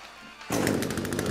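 A chainsaw in the survival horror game The Forest suddenly revs up to a loud, harsh, continuous buzz with a pulsing rattle, close and alone after a quiet moment.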